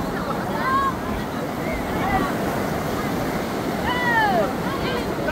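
Sea waves wash onto a beach as a steady loud roar mixed with wind buffeting the microphone, while faint whistling tones and distant voices drift over it.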